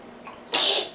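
A single short, sharp sneeze bursts out after a moment of quiet room tone, close by and fading quickly.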